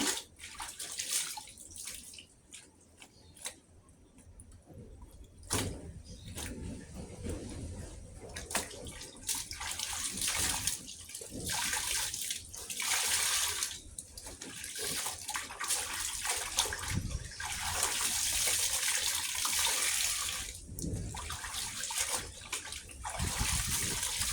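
Laundry is washed and rinsed by hand in water at home, with steady splashing, sloshing and pouring throughout, close and fairly loud, without talk.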